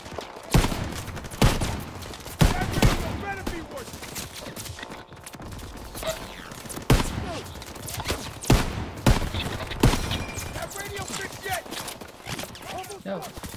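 Gunfire in the World War II shooter Call of Duty: WWII during the Battle of the Bulge, repeated loud sharp shots at irregular intervals over a busy battle din, with shouted voices throughout.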